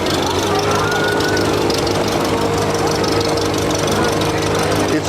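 An antique Case tractor chugs past in a town parade, its engine knocking loud and steady in a rhythmic putter, with a voice talking over it.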